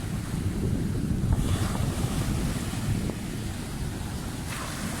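Steady rushing surf on a sandy beach with wind buffeting the microphone, a continuous broad wash of breaking sea waves close by.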